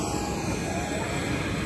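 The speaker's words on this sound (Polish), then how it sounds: "Jedyny samolot na lotnisku." An airplane at an airport in Lesotho makes a loud, steady engine roar that fills the whole span without a break.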